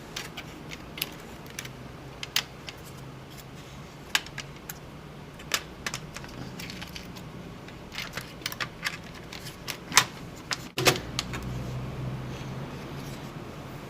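Clicks and snaps from a Dell Inspiron 1525 laptop keyboard being seated back into place after a beer spill, a scattered run of sharp plastic taps at close range with a heavier clunk near the end.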